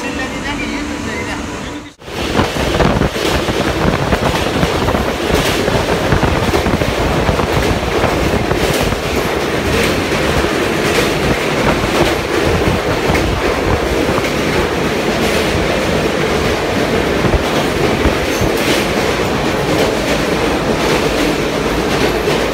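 A train rumbles steadily along the rails with a continuous clattering roar, loud and close, after a brief dip near the start.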